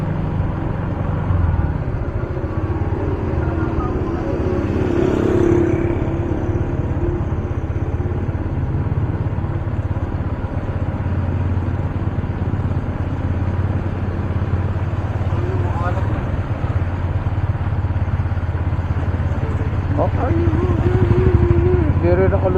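A motorcycle rides through a flooded street at high tide, its engine running at a low, steady drone with splashing. Someone talks over it throughout.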